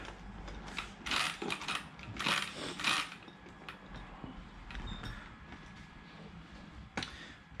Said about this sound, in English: you need one of those big wrenches open this thing up